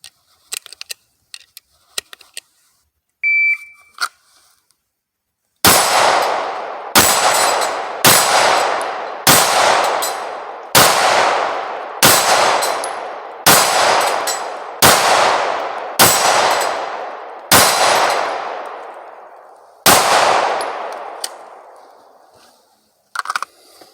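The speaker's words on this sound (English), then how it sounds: "I took 10 shots" Pistol shots ring off steel targets in a draw-and-shoot practice competition: about ten loud, sharp cracks, each with a metallic clang, fired at a steady rhythm of roughly one per second after a few faint knocks, with no talking.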